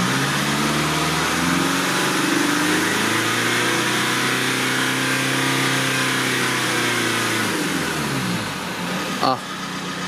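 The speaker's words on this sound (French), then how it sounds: "le moteur est bien chaud, on va accélérer" A Mercedes engine with an injection rail pressure fault revs up and back down in a sweeping rise and fall, then settles, with a brief click near the end.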